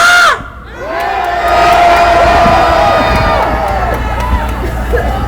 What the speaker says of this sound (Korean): 여러분 기쁜 만큼 함성!